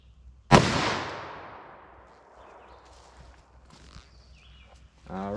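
A single sharp, loud gunshot from a light .357 Magnum handload fired into ballistic gel, its blast ringing out and decaying over a couple of seconds, followed by faint handling noises and a voice starting at the end.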